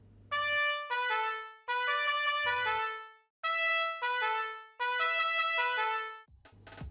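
Bright chiptune-style Super Mario 16 main theme, bouncy and upbeat, played in short phrases with brief pauses between them.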